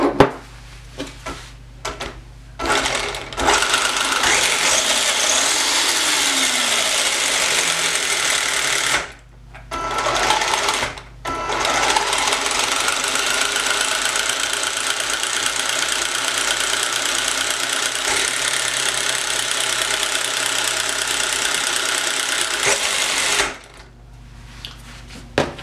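Electric motor of a Subotech BG1508 RC truck running, a loud steady whine near by that cuts out briefly twice and then stops near the end, no talking.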